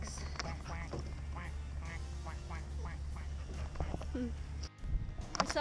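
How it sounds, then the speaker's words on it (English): Ducks quack repeatedly nearby at the waterside while people talk over a steady low background rumble. "Yep, those are ducks."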